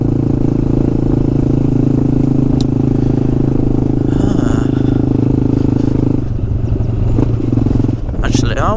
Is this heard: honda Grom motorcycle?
yes